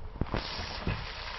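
Baby potatoes and tomatoes frying in a pan, giving a steady, quiet sizzle and hiss throughout, broken by two brief louder crackles near the start and middle.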